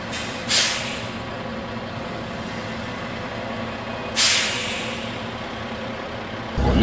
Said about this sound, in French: Là, je vais aller peser sur le break.